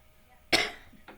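A woman coughs: one sharp, fairly loud cough followed a half-second later by a shorter, fainter second cough, with no talking.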